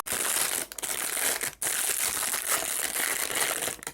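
Plastic wrap on a skein of raffia crochet yarn crinkles and crackles close by as it is peeled away, in nearly continuous rustling bursts with a couple of brief pauses.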